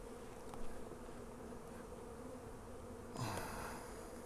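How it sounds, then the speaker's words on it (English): Honey bees swarm thickly around an open hive on a pallet, producing a soft, steady droning buzz close to the listener, with a brief louder scrape or rustle near the end. "it's really a lot of bees"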